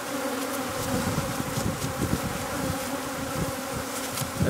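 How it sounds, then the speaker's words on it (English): Honeybees in a robbing mood buzz around an opened hive in Denmark, a dense continuous drone with individual bees whizzing past close by, loud and without speech. "there are bees already, 2 or 3 of them. They're in a robbing mood"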